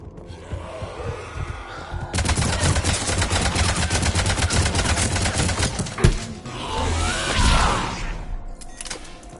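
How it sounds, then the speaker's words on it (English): Gunfire rattles through a Mass Effect 3 battle in rapid bursts, loud and close, with thuds and impacts between volleys and a sharp crack partway through. "Gunfire. They are near."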